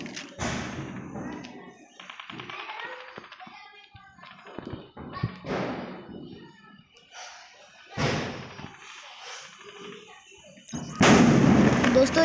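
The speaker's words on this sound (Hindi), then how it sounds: "दोस्तों वहां पे गन्स चल रही है" Gunfire in the Call of Duty video game comes as scattered bursts and sharp thuds, some loud and some distant, mixed with someone talking during a livestream.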